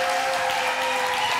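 A church congregation applauds to welcome the pastor to the front at a New Year service, a dense, steady wash of clapping from a large crowd filling the room.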